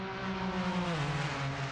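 Renault RS01 race cars in the Assetto Corsa racing game at Paul Ricard circuit roar close by with a sustained high-revving engine whine, the pitch sliding as two cars battle, loud and continuous without talk.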